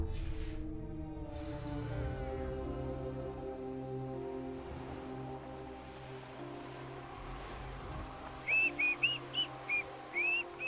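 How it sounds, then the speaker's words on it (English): Whistling from random people in the room, a few short high melodic phrases near the end over a steady background of game music, fairly faint. "Random whistling noises from random people."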